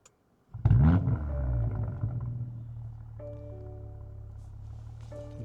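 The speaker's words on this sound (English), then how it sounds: "Let me turn the car on right now." A car with a loud aftermarket exhaust fires up: a sudden strong roar as the engine catches, then it settles into a steady, deep idle rumble that continues on its own.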